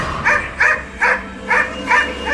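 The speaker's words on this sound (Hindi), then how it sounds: "कुत्ते की आवाज मेरे पीछे से आ रही थी" A dog barks five times at an even, steady pace, each bark loud and fairly close, with no voices alongside.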